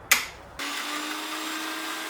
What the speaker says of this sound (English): I am continue using the same mixie jar after making the sweet dish